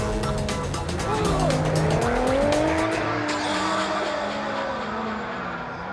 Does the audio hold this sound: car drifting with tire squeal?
yes